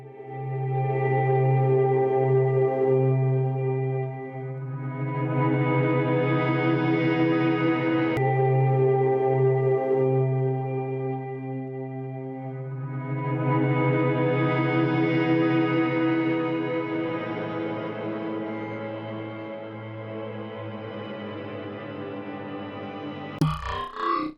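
Eerie sonification of early forming galaxies in the Chandra Deep Field South, heard as sustained layered drones with rich harmonics that swell twice into brighter, fuller washes before ending in a short burst.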